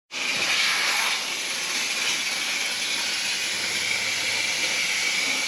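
Steady loud hiss of a steam cleaner working on a dirty, oily old farm truck, continuous and close with no break.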